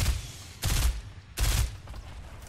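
Two bursts of rapid automatic gunfire ring out in a Fortnite Battle Royale match, each lasting about a quarter second with a pause between, followed by fainter scattered shots.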